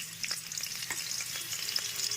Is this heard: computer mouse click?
no